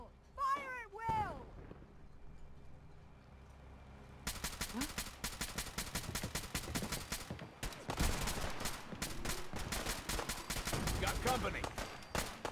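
Heavy volleys of gunfire erupt in Fallout 4's Far Harbor, a dense rapid crackle of shots from a group defending against attackers, loud and sustained after a quieter stretch with brief voice-like calls at the start.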